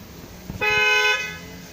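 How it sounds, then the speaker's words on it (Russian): Factory alarm of a Chrysler car sounding once, a loud, steady horn blast lasting about half a second after a couple of faint clicks, close by, then fading into quiet. "Моргает кнопочка и срабатывает сигнал."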